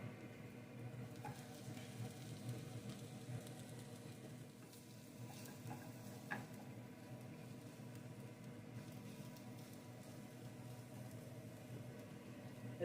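Pork fries in a pan with green onions for breakfast tacos, a soft, steady sizzle with a few faint clinks from stirring.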